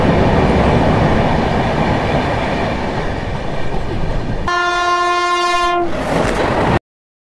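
Train at a railway station on the Coimbatore–Mumbai superfast express route, a loud steady rumble of rolling cars followed by a long, strong horn blast near the end.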